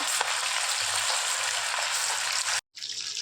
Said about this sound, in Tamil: சிக்கனை போட்டோன்னே பரட்ட வேண்டாம் ஒரு ரெண்டு நிமிஷம் வெந்ததுக்கப்புறமா பரட்டி எடுத்துக்கலாம்